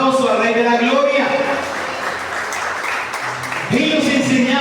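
A church congregation claps loudly in a burst of applause that fills the middle of the clip, with sustained musical or sung tones before and after it.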